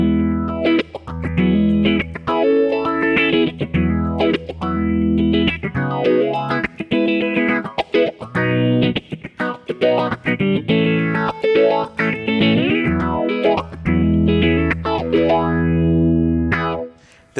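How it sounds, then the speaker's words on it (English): An electric guitar runs through the 4-stage setting of a Mr. Black Twin Lazers dual phaser pedal, its chords and notes sweeping in slow swooshing arcs, loud and up close with no talking. "The 4-stage is the more subtle of the two. Kind of sounds like a phase 90 kind of sound."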